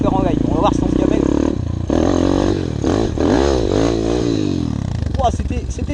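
A 190 enduro motorcycle climbing and riding over a bank, the engine revving loudly and surging up and down, with clatter and scraping as the front wheel locks in a hole.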